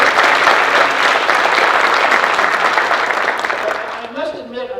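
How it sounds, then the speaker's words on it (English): A dense, loud round of crowd applause at an economic development conference fills the space, thinning out toward the end as a voice begins speaking over it. "So nice round of applause."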